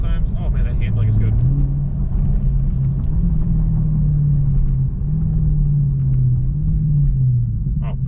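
A Dodge Charger SRT Scat Pack's engine rumbles steadily from inside the cabin, its low note stepping up and down through a couple of downshifts while someone talks over it.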